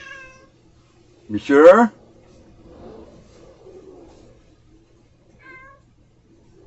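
A house cat meows once, close and fairly loud, after a brief spoken word, with faint engine rumble and a short quieter call later amid household quiet.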